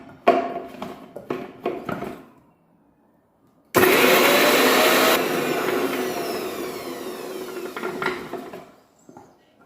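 A kitchen mixer grinder blends onion, garlic, coriander and chilli into a gravy for Kathiyawadi dhokli shaak. It starts abruptly with a loud whirring roar, then keeps churning more softly for several seconds, with brief clatter before and after.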